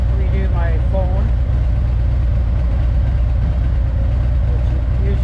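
A car engine idles steadily after starting, a low continuous rumble heard from inside the vehicle, with a brief electronic chirp near the start and a faint voice over the hum.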